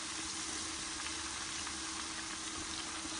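A fish curry with eggplant and potato simmering over low heat, a steady soft bubbling and hiss that holds evenly the whole time, with no voices.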